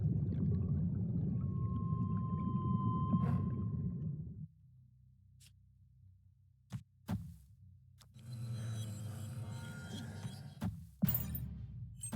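Underwater ambience from the Atlantis location of a video game: a murky low rumble with a thin sustained tone, then sparse sharp clicks and a brighter bubbling wash of water near the end.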